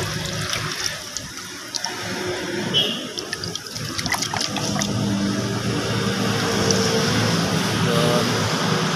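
Diesel pours out of a removed fuel filter during a replacement, a steady liquid trickle and splash into a container that keeps running throughout at close range with no talking.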